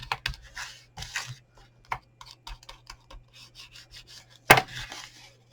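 Crinkly rubbing of a chocolate bar wrapper's ends, a series of short dry scratchy strokes close by, with one sharper crackle near the end and a faint steady hum underneath.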